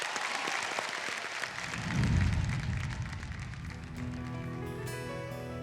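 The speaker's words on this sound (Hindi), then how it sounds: "एक बार जोरदार तालियां हो जाए" A studio audience on a singing competition show claps loudly at first, the clapping fading as music and tones rise and take over near the end.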